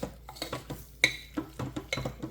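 Flour being stirred into tender green beans in a crock pot: a series of soft scraping and clinking spoon strokes against the pot, rhythmic and close, with one bright ringing clink near the middle.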